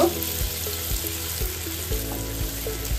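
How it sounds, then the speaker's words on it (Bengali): Butter sizzling and crackling in a hot pan, a soft steady fry with occasional light scraping, no talking. "বাটারটা পুরোটা মেল্ট করতে হবে"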